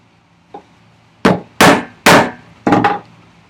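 A mallet drives a chisel while chopping a housing dado in wood for a workbench vise chop. One light tap is followed by four heavy, sharp blows in quick succession, close and loud.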